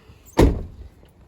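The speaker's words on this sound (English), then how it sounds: "Let me just show you guys with the door shut." A single solid thud as the driver's door of a 2000 Ford Excursion slams shut, close and loud, with a short low rumble fading after it.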